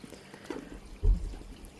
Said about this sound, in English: I'm just going to squirt a bit of water on this Crassula at the back here